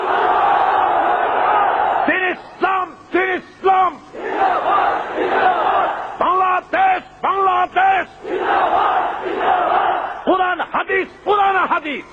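Crowd at an Islamic gathering roaring the takbir chant in loud massed shouts, repeated bursts with brief pauses between, near and forceful, mixed with a leading voice.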